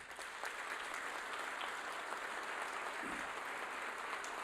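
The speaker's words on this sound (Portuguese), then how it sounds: "eu gostaria de ouvir mais um aplauso para o doutor Jorge Gerdau" At the Aço Brasil steel industry congress, an audience gives Jorge Gerdau a sustained round of applause, a continuous, even wash of clapping heard at a moderate, somewhat distant level throughout.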